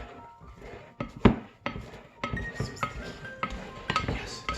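A spoon knocking and scraping against a bowl while stirring sticky cinnamon raisin bread dough, a series of irregular close clinks and thuds without speech.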